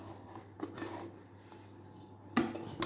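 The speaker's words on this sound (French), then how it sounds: "Et là, nous allons racler notre récipient." A plastic pastry scraper (corne) scraping out a bowl of éclair batter, soft scrapes with a couple of knocks against the bowl, close up over a low steady hum.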